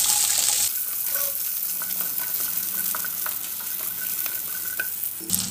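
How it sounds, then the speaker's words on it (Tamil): Dried red chillies and small shallots sauté in a pan for tomato coriander chutney: a steady close sizzle with light stirring scrapes and clinks. A louder hissing burst sounds at the very start and again at the end. "வரமிளகா லேசாக வதக்கி கொடுத்துக்கலாங்க."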